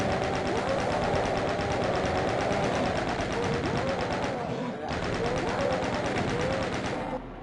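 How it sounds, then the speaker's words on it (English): Minigun fire in the shooter game Doom: a dense, continuous mechanical rattle of rapid shots, loud and unbroken apart from a brief dip midway, carrying on for several seconds. "Yeah, it's a fucking mini gun."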